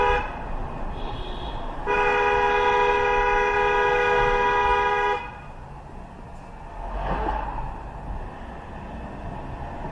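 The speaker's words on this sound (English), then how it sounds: "Why the fuck are you honking at me?" A car horn blares in traffic, one long, loud sustained honk lasting about three seconds. The steady rumble of a moving vehicle's road noise continues under it and after it.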